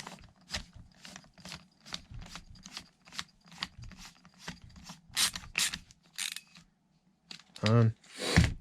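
A T25 screw on a Poulan Pro chainsaw is backed out with a rapid, rhythmic series of close ratchet clicks, a dozen or more even strokes ending in a louder burst of ratcheting.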